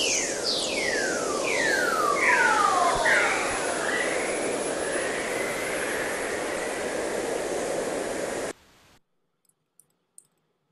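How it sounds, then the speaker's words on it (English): Aurora plasma emissions picked up by a radio antenna and played through speakers: a steady hiss crossed by repeated descending whistling sweeps, like chirping tones, lasting about eight seconds before cutting off to near silence with a few faint clicks. "What you're hearing is the actual sound of the plasma generated by the aurora being picked up by the radio antenna"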